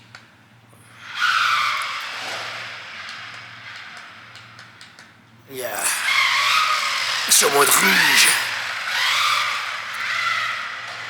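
SG1608pro red radio-controlled rally car in 4x4 sliding on an indoor track with treated tyres, giving a short skid, then a louder rasping drift with sharp squeaks near the end, while someone talks briefly in French.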